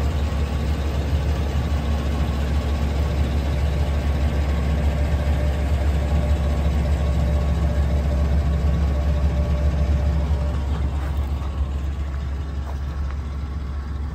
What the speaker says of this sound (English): I'll let you hear the engine for a second.